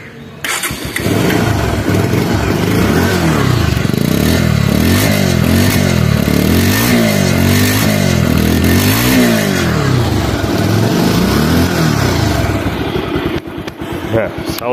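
A second-hand 2021 Bajaj Pulsar double disk motorcycle with about 3,800 km fires up, then its engine revs in repeated rising and falling surges, loud and close, before settling back.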